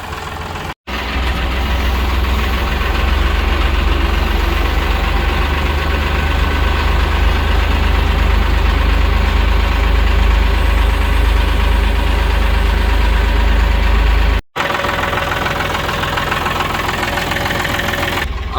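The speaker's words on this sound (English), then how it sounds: "picked this sucker right up with my tractor" A tractor engine idles steadily and loudly close by for the whole stretch, a low continuous rumble with a brief dropout near the start and again later.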